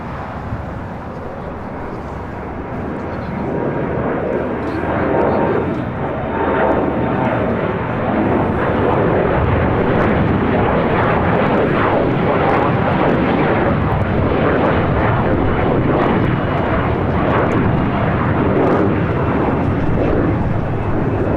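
An airliner takes off at LAX, a loud, dense roar of jet engines that swells over the first few seconds and then holds powerful and sustained, heard up close outdoors.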